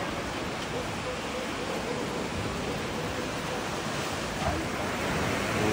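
Ocean waves wash in continuously at a beach resort on the Bataan coast, a broad roar mixed with wind buffeting on the microphone, steady throughout with a slight swell near the end.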